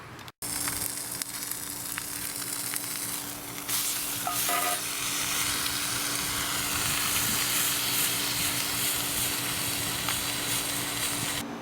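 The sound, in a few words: roast sizzling on a solar cooker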